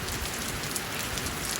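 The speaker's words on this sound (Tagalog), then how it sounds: "Ang ganda sana ng panahon, biglang umulan" Sudden rain falling outdoors, a dense, steady hiss of drops pattering on surfaces, close and continuous with no voices.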